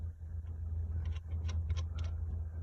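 A vehicle engine idles outdoors in a steady low rumble, with faint scattered higher clicks and noises over the top.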